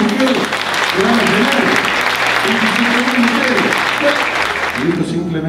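Loud, dense applause from a community crowd at a housing program launch and hall inauguration, a steady wash of clapping held for several seconds, with a low hum and indistinct voices running underneath.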